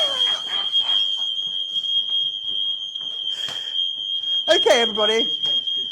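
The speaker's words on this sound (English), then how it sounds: "Okay, the alarm." A kitchen smoke alarm shrieks a constant high-pitched tone, set off by a burnt fish pie topping, sounding continuously and loudly beneath talking and shouting voices.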